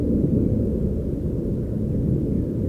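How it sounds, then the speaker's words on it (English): An aeroplane flies thousands of feet overhead, heard as a steady, distant low rumble that holds evenly without a break. "And an aeroplane thousands of feet in the sky."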